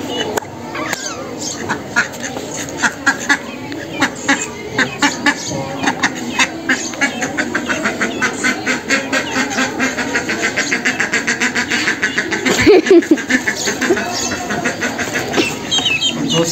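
Ducks and ducklings quack and peep nearby in repeated, uneven bursts throughout, with someone speaking over them.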